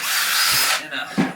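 A drill whines at high pitch as a wire wheel scrubs rust from holes in a Ford Transit van's metal, a harsh abrasive burst that stops, followed by a brief second touch.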